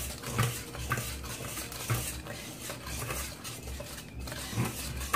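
Batter for a chilled coconut cake, made of flour and milk, being stirred by hand in a bowl, with a steady scraping and sloshing rhythm and a few sharper utensil knocks against the side.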